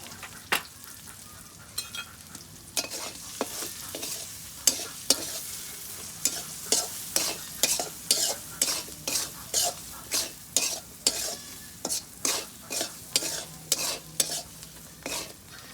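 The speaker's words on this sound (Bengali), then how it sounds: "আমার পেঁয়াজ কষানো হয়ে গেছে" Onions sautéing in a pan, crackling steadily while a spoon scrapes and stirs in a run of regular, close strokes. There is no talking.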